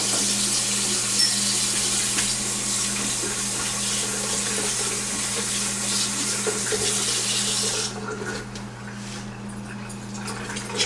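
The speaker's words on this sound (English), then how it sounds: "I'm gonna add a bit more water to that." Water pours steadily from a tap into a pot for chicken ravioli soup, a continuous rushing splash over a low hum that softens and thins near the end as the flow slows.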